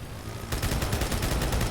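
Rapid gunfire in the Halo Forge video game on a custom figure-of-eight circuit, bursting in suddenly after a quiet half-second and running as a dense, loud, continuous volley to the end.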